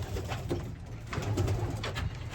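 A young racing pigeon coos softly in low, rolling murmurs against a steady background hum, faint and close.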